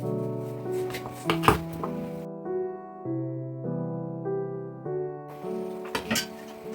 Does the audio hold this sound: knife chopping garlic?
yes